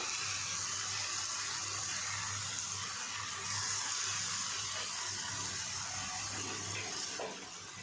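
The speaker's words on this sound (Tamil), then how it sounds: "அவலக்கியை வாஷ் பண்ணி எடுத்துக்கணும்" Water runs steadily from a kitchen tap while flattened rice (avalakki) is rinsed, a constant close splashing hiss with no speech over it.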